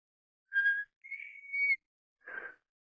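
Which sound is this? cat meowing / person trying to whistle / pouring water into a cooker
person trying to whistle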